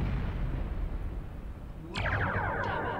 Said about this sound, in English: Fire torpedo to the Borg